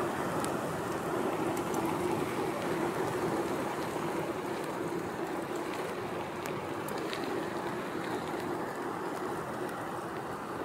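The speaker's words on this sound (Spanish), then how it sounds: "por acá está lloviendo más" Steady, dense hiss of rain on a mountain bike trail, with no voices, constant and close throughout, with a few faint ticks of drops landing above the wash.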